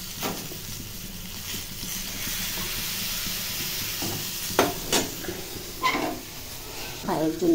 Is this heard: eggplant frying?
yes